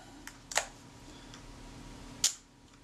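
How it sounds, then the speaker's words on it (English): A Kodak Retina IIIS camera, sold for parts or repair, has its shutter wound and fired. Two sharp, quiet mechanical clicks sound about two seconds apart in a quiet room, with a faint soft tick before the first. "shutter winds and fires, so it's good"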